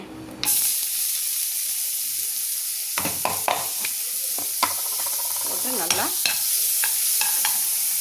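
Onions dropped into hot oil with fennel seeds in a frying pan burst into a loud sizzle, followed by a steady hiss with scattered clinks and scrapes of stirring, no voices.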